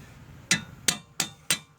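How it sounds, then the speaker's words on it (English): Five sharp metallic hammer taps on the threaded end of a CV axle on a 2013 Chevrolet Malibu, evenly spaced and close, each ringing briefly in a quiet garage. "tap that with a hammer without harming our threads"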